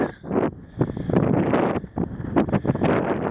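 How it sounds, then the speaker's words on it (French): Strong, gusty mountain wind buffets the microphone with loud, rumbling roars that surge and dip throughout, a close and constant outdoor blast. "Désolé pour le vent, hein, mais en montagne c'est souvent comme ça."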